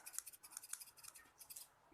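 Sharpened scissors snip through brocade fabric in a rapid series of crisp, close cuts, heard clearly and quietly on their own.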